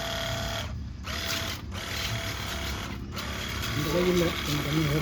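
A cordless pressure washer for cars and bikes runs with a steady whirring, ratcheting motor drone that briefly dips a few times, close by, with faint voices toward the end.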